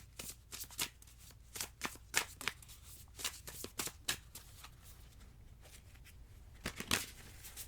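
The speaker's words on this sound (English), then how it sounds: "let me start shuffling this other deck here." Close, quiet shuffling of a tarot card deck: repeated crisp riffles and rapid paper flicks in irregular bursts, with no talking.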